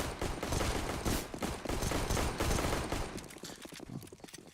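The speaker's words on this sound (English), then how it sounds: "the coveted everybody shoot your Glock on the way out of spawn" Rapid Glock pistol fire from several players at once in the Counter-Strike tournament match, dense overlapping pops crackling continuously as the team leaves spawn, tapering slightly toward the end.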